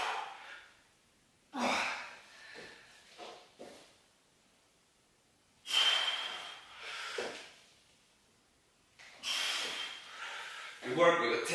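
Heavy, effortful breathing during a home bodyweight chest workout with no equipment: loud bursts of exhaling and gasping come in irregular clusters, separated by short quiet pauses.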